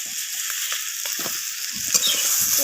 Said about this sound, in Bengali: তো সমস্ত কিছু মশলা আমি আলু আর বিনস কড়াইয়ের সাথে কষিয়ে নিলাম।